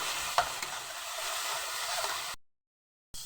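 Garlic paste frying with browned onions in a pan for a Bengali khichuri, a steady close sizzle with a few stir scrapes, cutting out abruptly to silence near the end before briefly resuming.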